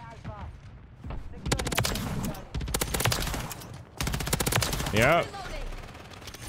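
Sustained light-machine-gun fire in Modern Warfare 3 comes in long rapid bursts with short pauses between them, loud and close. Someone talks briefly over the shooting.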